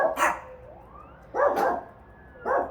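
Dogs bark excitedly in reaction to passing sirens indoors, three separate bursts of loud barking close by, with a faint rising siren-like whine between them.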